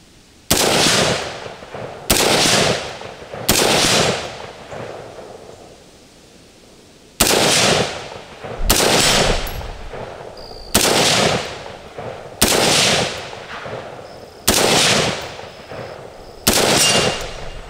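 A Smith & Wesson M&P 15 Sport II AR rifle fires about nine loud, sharp single shots outdoors, spaced a second or two apart, each followed by a short echoing decay, with a longer pause partway through.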